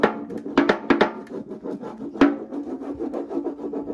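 An IOD decorative transfer is rubbed onto a surface, giving a close, continuous scraping rasp with a few sharper taps and strokes, sounding alone with no speech.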